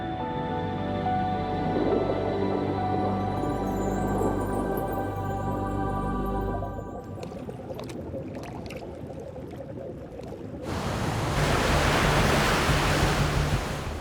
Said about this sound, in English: Along the southern shores of the Arabian Peninsula, the waves are churning.